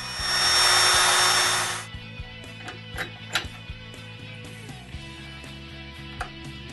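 A power drill bores handle holes through wooden drawer fronts in a cabinet workshop, a loud whirring burst lasting under two seconds, followed by scattered light knocks and clicks of handling.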